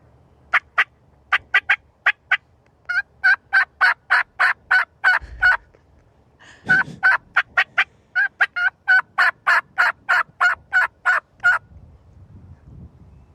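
A man imitates a turkey hen's excited yelp using a mouth call, sharp nasal yelps in quick rhythmic bursts, loud and close, repeated in two long runs with a brief pause between.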